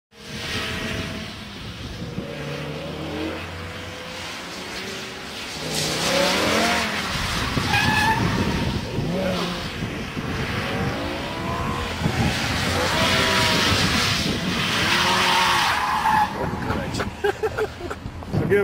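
A car spins through repeated 360-degree donuts on a BMW M driving school course, engine revving and tires squealing in long, loud waves that build after a quieter start, with people talking over it.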